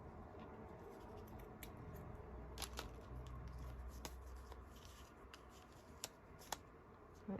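Scissors cutting paper while trimming a craft folio, a few soft, close snips and crisp paper rustles in a very quiet room.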